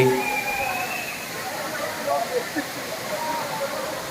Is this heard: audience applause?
no